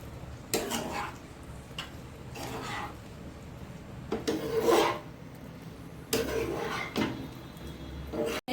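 Pasta and milk are stirred in a pan, making repeated scraping, rasping strokes in separate bursts against a low background.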